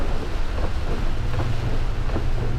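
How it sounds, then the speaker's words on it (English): Rain on a car windshield during a downpour on an island, with wipers slapping across the glass: a steady dense wash of rain and low rumble, with soft periodic swipes every second or so. "it's raining now. Got those wipers slapping that windshield."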